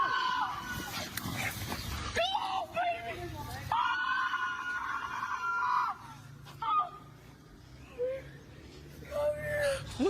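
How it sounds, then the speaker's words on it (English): Puppy on a street, yelping and whimpering in bursts with excited barks, close and fairly loud, mixed with voices talking nearby. "That dog wants to play."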